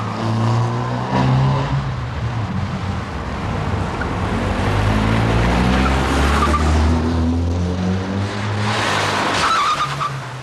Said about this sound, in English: the two cars sped down Broomfield Avenue